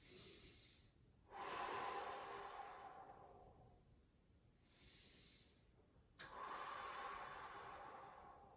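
Deep, slow breaths held through a hip stretch in a lower-body warm-up, two long airy inhales and exhales that swell and fade, close to the mic in a quiet room.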